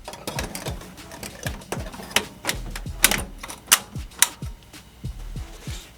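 Embroidery machine stitching a hat, a rapid clattering run of sharp mechanical taps in a steady rhythm, close and fairly loud, with no speech.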